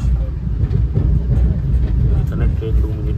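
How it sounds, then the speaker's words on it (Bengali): A Vande Bharat train rolls into Kathua station on the Katra to New Delhi route, a close, heavy low rumble with faint rail clatter, heard from inside the train. "আমাদের ট্রেন পৌঁছে গেল তৃতীয় স্টেশন কাথুয়া।"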